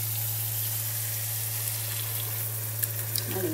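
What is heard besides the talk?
sizzling tadka with yogurt-marinated potatoes frying in pan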